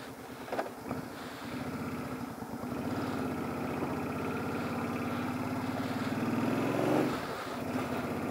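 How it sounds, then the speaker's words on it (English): A motorcycle rides on a cold day in Japan, its engine droning steadily and rising to a rev near the end, with wind rumble and a few knocks early on. "let's go out for a little motovlog ride"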